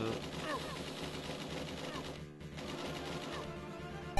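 Gunfire from the arcade shooter NAM-1975 on the Neo Geo, a dense rapid rattle of shots in an unbroken stream over game music and effects, loud and continuous throughout.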